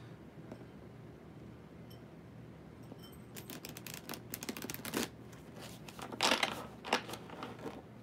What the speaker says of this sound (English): Get a good shuffle going.